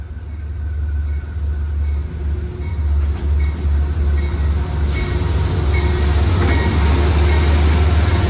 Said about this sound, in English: And there she comes, the New York section,